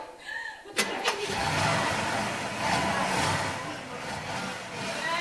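A car engine catches with a sharp burst and then keeps up a steady, fairly loud drone as the car pulls away, with faint voices at the very start.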